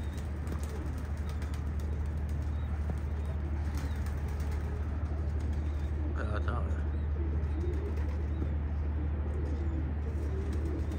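Racing pigeons in a loft coo steadily with occasional wing flaps and faint chirps, close and fairly soft over a constant low hum, while someone talks nearby.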